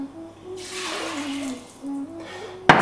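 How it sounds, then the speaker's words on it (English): Water pours into a pot of basmati rice in a short steady splash, then stops, followed by a brief sharp clatter at the end. "Now I'm going to pour exactly 2 cups of water."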